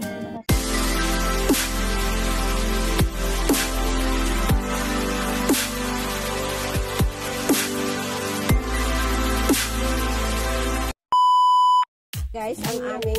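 A kitchen timer gives a steady series of beeps while being set, over continuous background music, then one long, clear electronic tone near the end.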